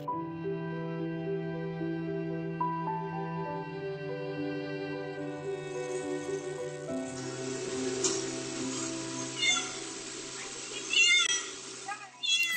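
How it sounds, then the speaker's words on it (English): A female cat with a wounded leg, stuck at a fence, meowing in long drawn-out wails, fairly loud and close, with a voice talking over them. "This female cat named Blossom had a wound on her previous leg that wasn't healed completely yet"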